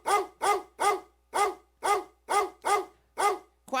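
A dog barks eight times in an evenly paced series, sharp and close, with short silent gaps between the barks in a dry, quiet setting.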